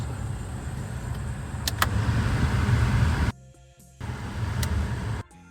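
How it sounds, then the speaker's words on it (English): HVAC blower motor in a 2005 Chevy Colorado running as a steady, close fan whoosh, cutting out briefly, then resuming at a different speed before stopping near the end. "See if the blower turns on. There it goes."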